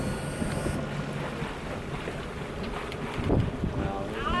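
A sailboat motors along Greenland's west coast in calm, windless conditions, a steady low engine drone and water wash running throughout with light wind buffeting on the microphone.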